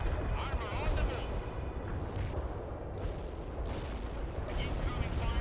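Artillery rounds in the World in Conflict video game land and boom in repeated heavy blasts, their rumble rolling underneath while radio-style voices talk over the battle.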